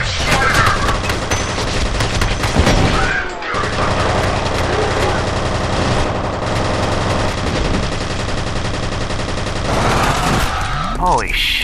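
Sustained automatic gunfire in the shooter F.E.A.R. Perseus Mandate, loud and dense bursts of rapid shots with crashes and impacts throughout, briefly dipping before resuming, with a voice shouting over the battle.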